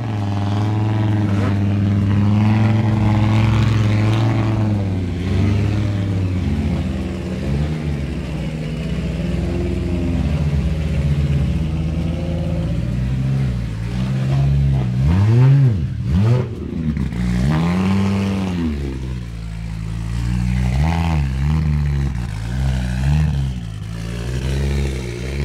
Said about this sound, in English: And we've got some of the Quattros firing up now to go up the hill.